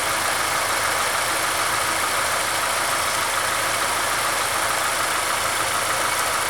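A 2000 Honda Accord with a leaking VTEC solenoid gasket idling close by, a loud, steady, continuous engine hum and hiss with no change in pace and no talking.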